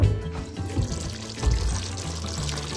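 A pot of soybean curry bubbles on the stove in a home kitchen, a close, steady gurgling simmer with soft irregular pops and no one talking.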